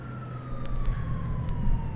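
Emergency vehicle sirens wail in the video game GTA IV, a steady, slowly falling tone at moderate distance over a low engine rumble, with a few faint clicks.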